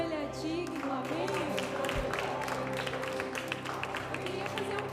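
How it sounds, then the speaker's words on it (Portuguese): A church congregation claps during worship, a steady patter of many hands layered with sustained voices or music, moderately loud throughout the short stretch. "Aplauda o Senhor, Ele é digno, amém?"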